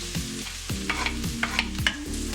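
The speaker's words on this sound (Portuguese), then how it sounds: "agora que a margarina já derreteu, eu coloco o alho e deixo o alho ficar" Garlic fries in melted margarine, hissing softly beneath repeated scraping strokes of a spoon across the pan and a few light taps.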